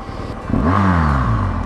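A car engine revs up sharply, its pitch sweeping upward and then settling into a loud, sustained drone, heard close and alone with no talk.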